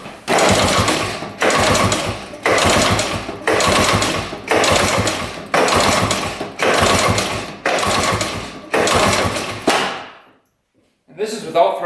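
A snowmobile engine, found at auction after sitting untouched for 40 years, cranks over with the throttle closed, giving nine even, loud bursts of rhythmic chugging before it stops; brief noise follows after a short silence.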